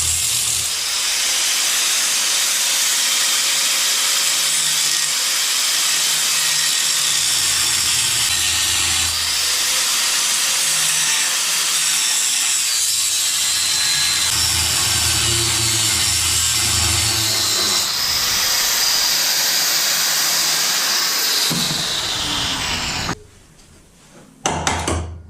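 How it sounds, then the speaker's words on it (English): A Dremel rotary tool smooths freshly cut plastic edges on a Can-Am Outlander ATV, a steady close whine and hiss running almost without a break, then a sudden drop near the end. "going to hook up the Dremel and just smooth out some of those edges quick"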